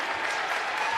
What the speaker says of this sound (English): This Noblesville crowd is appreciative